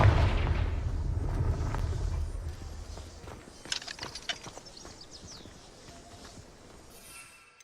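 Confringo fire spell explosion in Hogwarts Legacy: a loud rumbling blast that fades into a scatter of crackling debris pops and small impacts.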